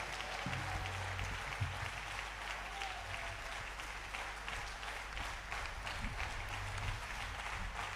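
A church congregation applauding in celebration, sustained dense clapping from a crowd, fairly faint and steady throughout, with a few voices mixed in.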